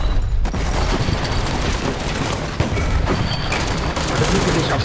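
Support fire in a multiplayer PC shooter game: dense bursts of gunfire and booming explosions rolling continuously and loudly throughout, with a few sharper impacts standing out.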